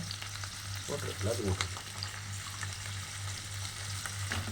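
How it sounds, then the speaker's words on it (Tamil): Small onions frying in hot oil for a village-style mutton curry, a steady crackling sizzle with a constant low hum beneath and a few brief stirring scrapes near the start, close and alone without talk. "எண்ணெய் நல்லா காஞ்சதுமே வெங்காயத்தை சேர்த்துக்கலாம்"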